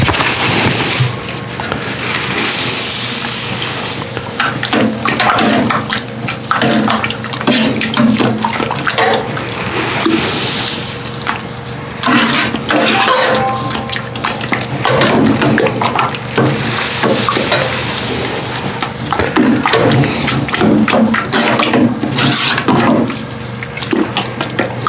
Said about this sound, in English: So let me go ahead and stir my grain in.